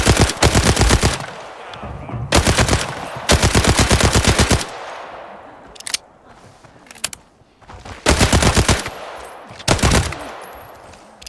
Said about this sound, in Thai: ยิงหมดใส่เพิ่มยิงหมดใส่เพิ่ม